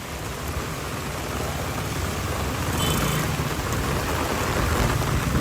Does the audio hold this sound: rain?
yes